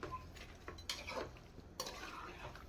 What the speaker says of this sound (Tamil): நல்லா கிளறி விட்டுக்கலாம்